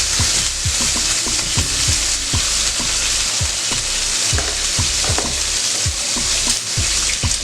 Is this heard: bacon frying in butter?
yes